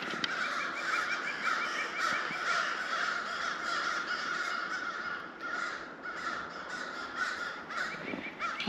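Several crows caw harshly and repeatedly while mobbing a bird of prey outdoors in early spring in Ontario, Canada; the overlapping calls carry steadily throughout at moderate distance, with no talking.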